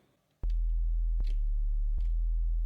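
A steady, pure synthesized sine tone from the Serum synthesizer drones continuously after a short pause, with faint clicks where it restarts.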